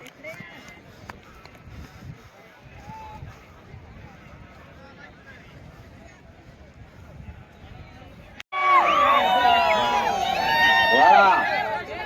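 Crowd at a Hindkesari bullock cart race on the Koregaon ground, 2024: a low, steady murmur swells abruptly into a loud, dense roar of cheering and shrill whistles that holds to the end.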